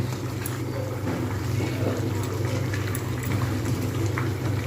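Capsicum chicken with potatoes fries in a pan while being stirred, giving a steady, dense sizzle that stays even and close throughout.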